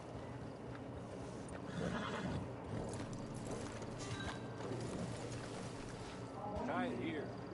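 In Red Dead Redemption 2, a horse whinnies and snorts near a camp while hooves clop on the ground, with faint background ambience and a voice speaking over it.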